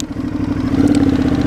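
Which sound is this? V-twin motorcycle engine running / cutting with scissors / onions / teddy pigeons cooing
V-twin motorcycle engine running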